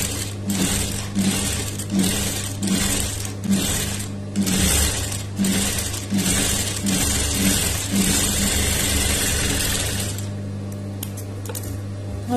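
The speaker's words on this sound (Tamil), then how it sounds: "இப்ப பக்கத்துல ஒரு தையல் வந்து நம்ம போட்டுக்கலாம்." Sewing machine running a seam beside a lined round neckline, loud close mechanical whirring in steady rhythmic pulses for about ten seconds, then stopping to quiet handling clicks.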